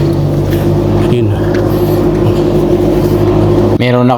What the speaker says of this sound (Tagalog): Meron na kasing nadaan na sasakyan